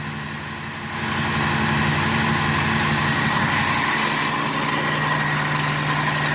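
A car's engine fires after sitting a week in a cold start, jumping from quiet to a steady, close idle with a faint light ticking from the lifters.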